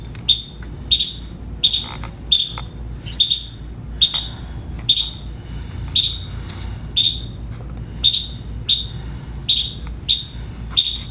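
A mother bird in a mandolin shop, near her babies and a snake, gives sharp, evenly spaced high chirps over and over, about one each second, loud and close against a low background hum.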